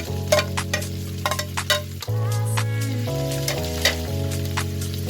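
Long green chilies and bird's eye chilies sizzling with frying pork liempo in a pan, loud constant crackling and popping under steady background music, no talk.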